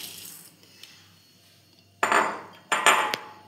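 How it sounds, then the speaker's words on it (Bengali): Oats tipped into a bowl, landing in two short, loud rushing bursts close by after a quiet start. "একটা পাত্রে ঢেলে নিলাম।"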